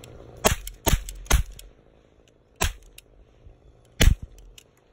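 Toy cap guns firing outdoors: five sharp, loud snapping cracks, three in quick succession, then two more spaced out after pauses.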